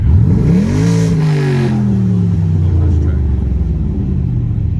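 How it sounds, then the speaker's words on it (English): A 2006 Pontiac GTO, fitted with a Tick Performance clutch master cylinder, revs hard: the engine note climbs quickly, holds briefly, then sinks back toward idle as a steady, close rumble over about five seconds. "rev it all the way. See if I have any drag."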